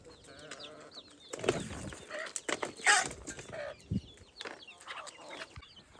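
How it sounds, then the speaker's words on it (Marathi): Chickens and small chicks crowd in to peck at flour scattered for them on a farm, their soft clucks and chirps coming in short bursts, with a few flaps and scuffles nearby. "हे सगळे कोंबड्या आले बघा आपल्या"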